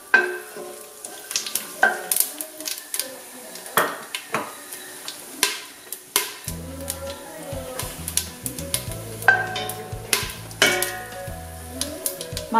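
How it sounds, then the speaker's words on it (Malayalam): Whole spices sizzle in hot ghee for a Thalassery chicken biryani, with a steady frying hiss broken by sharp clinks of a utensil stirring against the pot and a low hum in the background. "നെയ്യ് ചൂടായി കഴിയുമ്പോൾ അതിലേക്ക് നമുക്ക് മസാല ഇട്ട് കൊടുക്കാം."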